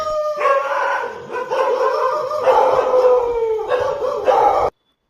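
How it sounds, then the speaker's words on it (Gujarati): Village dogs at night give continuous howling and barking, a fairly loud, sustained chorus of several voices with rising and falling pitch that stops abruptly at the end. "રાત પડે ને કૂતરાના ભસવાના અવાજથી લોકો સમજી જાય છે"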